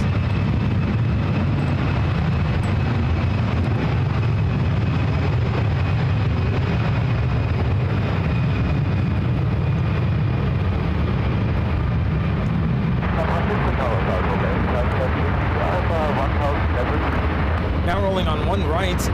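A Delta Airbus A319 takes off from SFO with a loud, continuous jet roar. The noise holds steady and close, with a shift in tone near the end, and a voice narrates over it.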